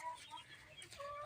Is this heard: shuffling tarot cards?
no